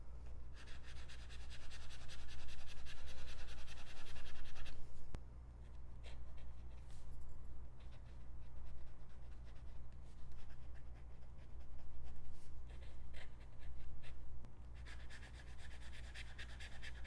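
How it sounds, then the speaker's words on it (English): Kakimori steel-nib fountain pen writing on paper, a close, dry scratching and rubbing in uneven strokes and pauses over a faint low background hum. "Then we'll do the Kakimori steel metal nib."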